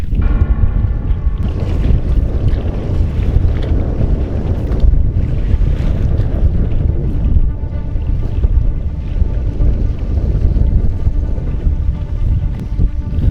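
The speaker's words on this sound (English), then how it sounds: "the wind starts to blow stronger and stronger, and my lightweight canoe is struggling in the wind" Strong wind buffets a lightweight canoe out on open water, a loud, continuous roaring gust against the microphone with water sloshing beneath, sustained and unbroken.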